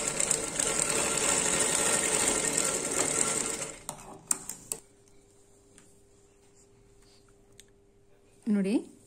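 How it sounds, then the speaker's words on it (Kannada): Sewing machine stitching a baby frock, a steady loud mechanical whir for about four seconds, then stops, leaving a quiet room with a few clicks and a brief voice near the end. "ಒಂದು ಫೂಟ್ ಗ್ಯಾಪಲ್ಲಿ ಇನ್ನೊಂದು ನೀಟಾಗಿ ಇನ್ನೊಂದು ಸ್ಟಿಚ್ ಹಾಕ್ತಾ ಇದ್ದೇನೆ"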